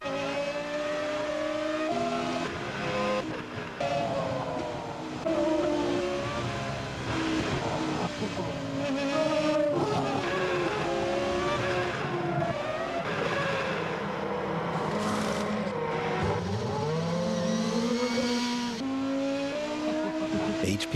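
A BMW Williams race car engine roars and revs continuously, a loud, dense engine note with rising and falling pitch that holds for about twenty seconds.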